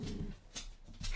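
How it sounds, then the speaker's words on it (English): Grouchy dog whimpering and grumbling in short low bursts, faint and close, with a couple of soft higher breaths between. "that was a grouchy dog"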